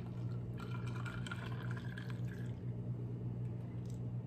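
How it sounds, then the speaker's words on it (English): Freshly brewed hot coffee poured over a glass of ice, a soft trickling splash over a low steady hum, fading out after a couple of seconds. "they'll take their freshly brewed coffee, whether it's a Chemex or brewer, whatever it may be, and simply pour it over."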